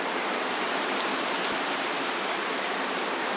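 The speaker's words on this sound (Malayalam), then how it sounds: "കണ്ടോ നല്ല മഴ പെയ്യാണ്." Heavy rain pours outside a home with a kitchen garden, heard from just indoors as a dense, steady hiss that holds evenly throughout with no voices.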